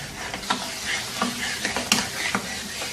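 Tomatoes stirred into Peshawari namkeen karahi meat over a high flame give a loud, close sizzle with repeated rhythmic scraping strokes of a spoon against the karahi, and no one speaks.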